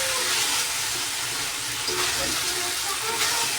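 Meat sautéed with spices in a pan gives a continuous close sizzle and spatter, steady and fairly loud, with the faint scrape of stirring and no talking.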